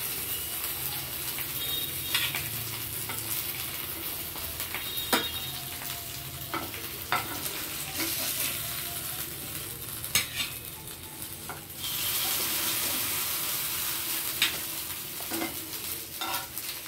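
Hilsa fish sizzling and frying in a pan, with a steady crackling hiss and occasional sharp pops and clinks of a utensil. The oil noise swells louder partway through and keeps going with no voices.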